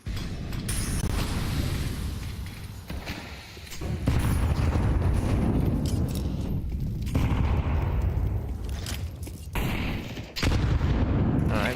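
Rifle fire in a Counter-Strike 2 esports match plays as near-continuous rattling bursts and heavy booms, loud and dense throughout, with only brief gaps between volleys.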